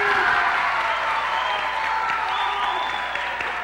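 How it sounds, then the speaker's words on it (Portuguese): A television studio audience at a 1978 Brazilian variety show applauds in a dense, continuous wash of clapping that holds steady throughout, close and fairly loud. "Aplausos, só aplausos."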